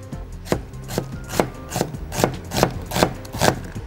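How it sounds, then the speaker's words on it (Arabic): A knife slices through a red onion on a cutting board, giving eight evenly spaced, crisp chops in a steady rhythm, close and clear with no talking. "البصل بتاعنا هناخده سلايسز عاديه خالص فهاخده اهو بالنص ومن هنا"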